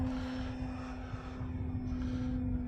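An FMS Pitts RC model airplane's engine drones steadily at a distance and builds slightly as it gains speed into a loop, fairly faint and with no voices.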